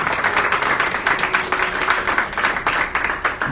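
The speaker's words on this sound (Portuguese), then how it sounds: "Você pode dar uma salva de palmas a esse Jesus que nós pregamos" A church congregation claps together during a sermon, producing dense, sustained applause with slightly pulsing swells that stays fairly loud throughout the short stretch.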